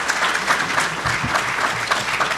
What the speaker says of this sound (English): Please join me in a round of applause for the panel,